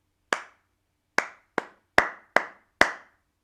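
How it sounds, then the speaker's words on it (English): Bare hands clapping a rhythm pattern in a primary school music lesson, six sharp close claps with uneven spacing, one alone then a quicker group of five, in a quiet room with no voices. "Just clap it."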